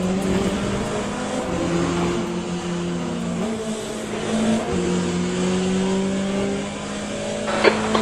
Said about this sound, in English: these hypercars are breathing on me.